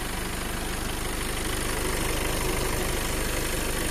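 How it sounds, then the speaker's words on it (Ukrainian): A Skoda Superb TDI 150 PS diesel with a DSG7 gearbox idles steadily, a continuous even rumble with a fine rhythmic clatter, close and alone without talk. "двигун працює в ідеалі, бо авто проїхало вже трошки кілометрів"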